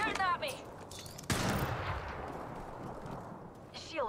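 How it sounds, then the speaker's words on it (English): Gunfire in the battle royale game Apex Legends: a burst of shots and a sharp impact crack, followed by a fading rumble, with players talking over it. "They're shooting at me!"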